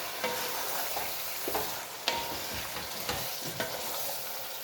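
Chicken pieces fry and sizzle steadily in a pan while a utensil stirs and scrapes through them, giving several sharp clacks against the pan over a constant hiss.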